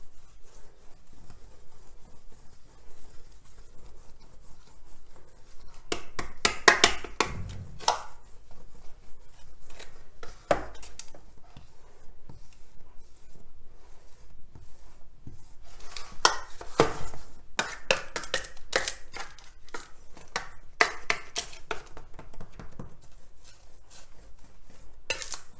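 A spoon spreading cake mixture across a pan, heard as soft scraping and rubbing strokes with occasional light clinks of metal, close and fairly quiet, in irregular clusters.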